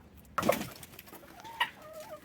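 A few short clucks from laying hens being let out of a coop nearby, with a brief scuffle at the start and quiet between calls.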